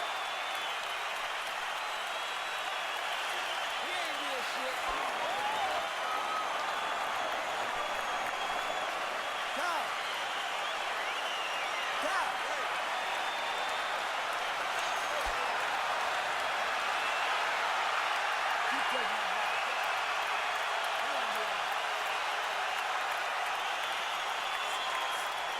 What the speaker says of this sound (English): those cheers you hear in the background are fans cheering the blood on Mayweather